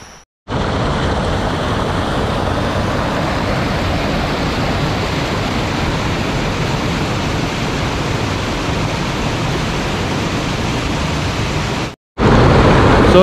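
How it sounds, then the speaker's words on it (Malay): Loud, constant roar of rushing water from the river rapids at Jeram Berungut in Taman Negara, a dense, unbroken wash of sound broken only by two brief cuts to silence. "Macam ada deruan air"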